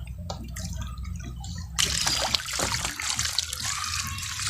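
Water trickles and drains from freshly washed azolla, a soft dribble that swells into a fuller splashing stream after a moment, close and steady with small drips mixed in.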